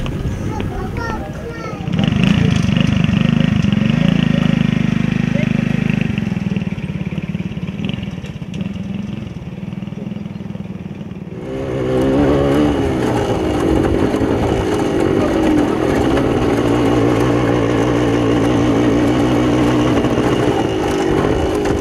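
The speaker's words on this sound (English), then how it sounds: "It's another long motorbike ride." A motorbike engine ridden through deep sand on a rural track, droning and revving in surges and fading briefly midway before returning loudly, with a person talking over parts of it.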